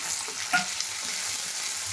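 Chopped tomato going into onions frying in a pan for a village-style stuffed brinjal curry, a steady close sizzle with faint stirring scrapes and no voice over it.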